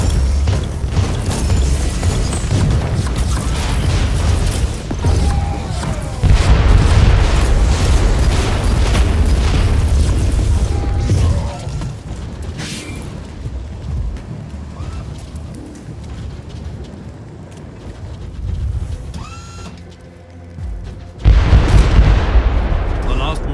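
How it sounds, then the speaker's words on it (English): Rebel mortar artillery pounds an Imperial fort in Warhammer 40K Inquisitor Martyr, heavy booming blasts and rumbling explosions in repeated loud bursts, with battle noise and game voices mixed in. "their mortars attack the Imperial fort with artillery fire"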